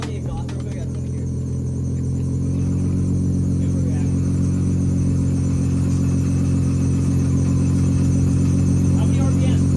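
A widebody Ford Mustang's engine hums at a strong, steady idle through the exhaust, loud and close, its deep tone holding and building slightly over the seconds.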